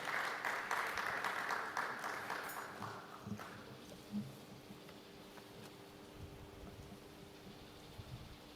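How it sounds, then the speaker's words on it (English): An audience at an energy sustainability conference applauds, with a dense patter of clapping that fades after about three seconds into quieter room noise and scattered faint claps. "A round of applause for Yewande Abiose."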